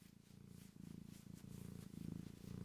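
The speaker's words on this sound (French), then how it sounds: "Elle ronronne." A cat purrs up close in a steady, rhythmic rumble of repeated breathing pulses, soft and continuous with no talking.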